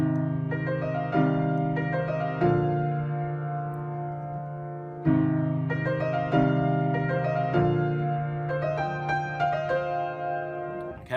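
Solo piano plays the introduction of a pop song: a repeated chordal motive with sustained bass notes, restarting around five and seven seconds, clear and close with no voices over it.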